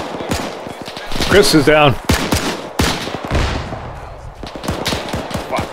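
Machine gun fire in Arma 3 Iron Front during a manor assault: repeated sharp bursts of rapid shots, some near and some distant, while voices talk over the shooting.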